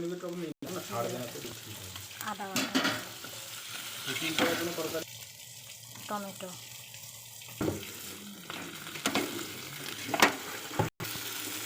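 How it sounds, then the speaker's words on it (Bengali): Mustard paste and green chili paste frying in oil for a spicy hilsa and eggplant curry, a steady sizzle with stirring and clatter running throughout, broken by brief quieter gaps. "সবার প্রথমে সর্ষে বাটাটা দিয়ে দিব তেলের মধ্যে তারপরে কাঁচা লঙ্কা বাটা কাঁচা লঙ্কা বাটা দিয়ে নেড়ে নেব"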